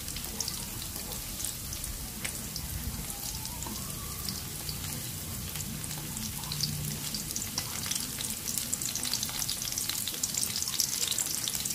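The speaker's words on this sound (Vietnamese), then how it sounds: "Thì các bạn cứ chiên như thế nè" Steady, continuous sizzling and crackling of vegan spare ribs frying in hot oil over medium heat, with fine popping throughout and no talking.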